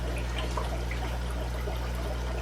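A rigid stick airline bubbles steadily in a warm guppy fry tank, giving a continuous fizzing trickle over a constant low pump hum, close and unchanging.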